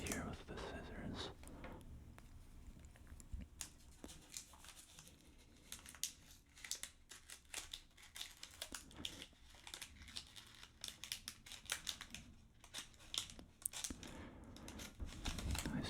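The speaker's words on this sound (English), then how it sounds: "I'll just cut down the middle here with the scissors" Scissors snip and crinkle through the plastic wrapper of a Japanese chocolate bar, a close, quiet run of rustling and cutting with soft whispered speech over it.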